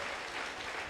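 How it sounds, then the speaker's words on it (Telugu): A church congregation at a Visakhapatnam prayer and anointing service claps hands in praise, a brief dense wash of many hands at moderate distance. "గట్టిగా చేతులు పైకెత్తి చప్పట్లు కొట్టి ప్రభువుని స్తుతించండి"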